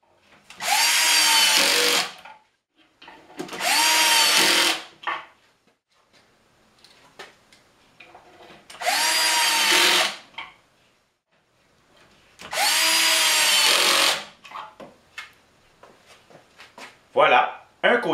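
A Kreg power drill drives screws into pocket holes in a wooden cabinet box in four loud whirring bursts of about two seconds each, separated by quiet gaps with light handling noises and brief speech near the end.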